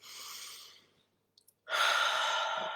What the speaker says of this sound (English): And you can just tap that and breathe in. Big, deep breaths.